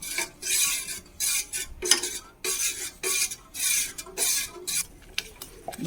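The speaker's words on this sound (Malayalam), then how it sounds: "കട്ടയില്ലാണ്ട് കലക്കിയിട്ട് നമുക്ക് ജസ്റ്റ് ഒന്ന് കുറുക്കിയെടുക്കാം" Scraping spoon strokes stir a thick ragi porridge made with only water in a pan, repeated in a steady rhythm of short bursts, close and moderately loud, with no talking.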